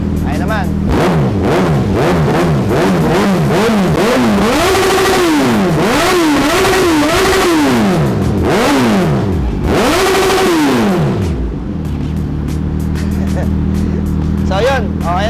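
A Suzuki GSX-S1000 motorcycle exhaust revs repeatedly while standing still, loud rising and falling blips in quick succession, then settles to a steadier idle near the end.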